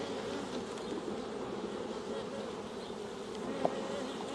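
Honey bees drone steadily from an opened hive where an old nuc is being introduced, a dense, continuous close buzz with one brief sharp knock near the end and no voices.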